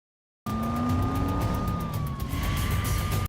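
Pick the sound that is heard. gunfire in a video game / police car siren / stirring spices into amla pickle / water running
police car siren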